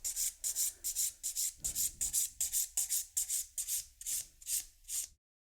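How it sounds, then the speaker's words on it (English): A nail file bevels an acrylic-gel hybrid nail toward the tip in a steady rhythm of about a dozen short, crisp rasping strokes, heard up close with no talk. "The 5th step in filing, turn the nail around from the client's angle and bevel down towards the tip."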